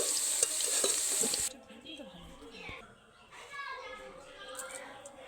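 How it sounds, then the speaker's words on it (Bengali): New potatoes frying in hot oil give a loud, dense sizzle for the first second and a half, then cut off abruptly as they are lifted out, leaving quieter kitchen clatter and voices nearby. "আলুটাকে তেল ছেঁকে তুলে নিতে হবে ঠিক এই ভাবে"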